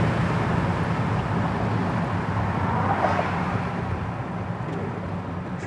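A 1966 Chevelle Malibu with a two-speed Powerglide automatic cruises down the road, a steady, loud broadband rumble of engine and road noise that holds evenly throughout with no voices.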